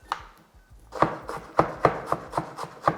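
A knife chops through firm arrowroot on a board, sharp close knocks coming in a quick irregular run of about eight strikes.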